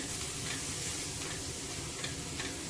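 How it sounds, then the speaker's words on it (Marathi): Red chilli powder, turmeric and asafoetida sauté in oil over a low flame, a steady dense sizzle with faint stirring ticks throughout. "एक चमचा आगरी पद्धतीचं लाल तिखट अर्धा चमचा हळद चवीपुरतं हिंग परतून घेऊया"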